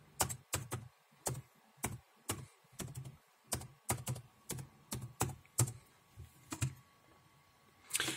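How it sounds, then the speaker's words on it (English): Password being typed on a computer keyboard as a series of sharp, separate key clicks in an uneven rhythm, about twenty presses over eight seconds; close and clear, with no talking. "now you just need to write your password"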